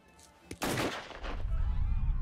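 Gunfire in Mafia III, a short sharp crack and then a dense burst of shots that trail into rumbling noise and clatter, loud and close.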